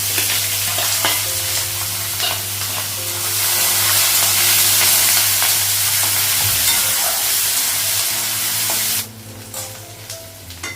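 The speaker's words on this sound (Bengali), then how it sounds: "পেঁয়াজটা ভাজা হয়ে গেছে" Onions and green chilli frying in a pan, a loud continuous sizzle with stirring scrapes that drops off sharply near the end, leaving quieter clatter.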